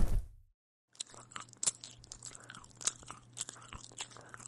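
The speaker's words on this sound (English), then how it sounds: "First punishment, eating Christmas cookies." Christmas cookies being eaten, with crisp crunching bites and chewing that repeat in an irregular rhythm close to the mic after a short silent gap.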